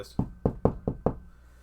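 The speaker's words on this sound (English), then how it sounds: "he heard on his window just a knocking" Knocking on a car window: five sharp, evenly spaced knocks in quick succession, close and loud, then quiet.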